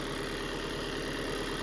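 A Volkswagen Transporter engine idles steadily, a close, even mechanical hum with a low rumble and no voices, the van's alternator not charging.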